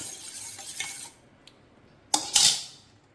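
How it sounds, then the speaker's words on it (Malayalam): A spoon stirs a mixture into rice water in a vessel, with a soft swish, then a sharp clink and a brief burst of scraping against the container. "ആഡ് ചെയ്തിട്ട് നന്നായിട്ടൊന്ന് ഇളക്കി യോജിപ്പിച്ച് വെക്കുക"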